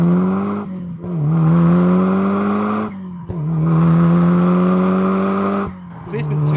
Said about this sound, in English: This is where you'll get the raw tone, the burble, the pops, the bangs, everything that sounds nice about the car.